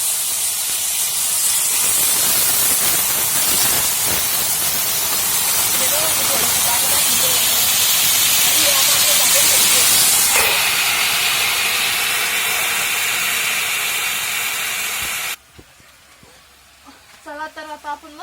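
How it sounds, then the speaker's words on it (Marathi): Water poured onto a hot griddle under a lid while cooking kothimbir mutkule, giving a loud, steady steam hiss for about fifteen seconds that cuts off abruptly, followed by quieter sounds. "तव्यावरती थोडंसं पाणी बी टाकलं होतं आणि झाकण ठेवलं"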